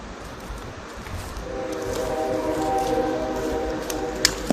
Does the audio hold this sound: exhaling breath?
no